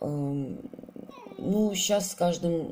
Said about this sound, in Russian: мой кот.